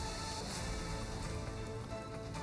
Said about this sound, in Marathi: तर अनेक ठिकाणी रिमझिम, काही ठिकाणी जोरदार पाऊस झाला आहे।